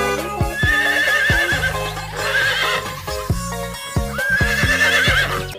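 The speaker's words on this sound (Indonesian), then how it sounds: "Sepertinya ini kuda ya." Colourful toy pony horses neigh and whinny loudly in repeated bursts, mixed with bouncy clip-clop hooves and a cheerful musical backing throughout.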